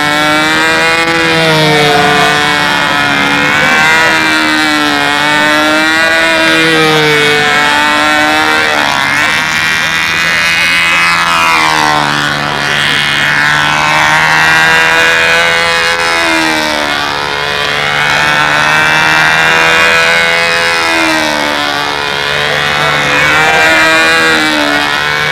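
A model airplane buzzes steadily overhead, and its engine whine rises and falls as it passes and banks, loud and close throughout.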